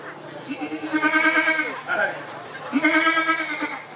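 A person imitates a goat's bleat during a Bihu stage program in Hojai, giving two long, wavering nasal bleats with a short break between them, loud and close.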